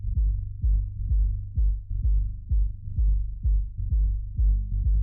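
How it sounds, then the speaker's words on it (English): Bass notes in an electronic track pulse at a steady beat and sound gritty and distorted from a multiband compressor with time settings that are too fast. The throbs are loud and repeat about twice a second. "if you hear the lows, they were distorting because this time variable here was too fast"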